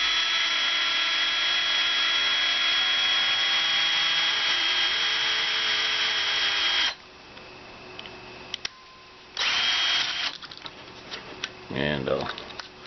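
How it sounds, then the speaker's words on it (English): A power drill runs steadily for about seven seconds, pre-drilling a hole in thin wood for a small mousetrap racer. Its loud, whining motor tone then cuts out, followed by brief quieter handling noises and a short final burst. "I'm going to pre-drill a hole here so I don't split it, because it's pretty thin."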